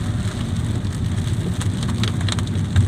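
Heavy rain pours down during a storm, a steady dense hiss of drops hitting surfaces that stays constant and loud from start to finish, with no talking.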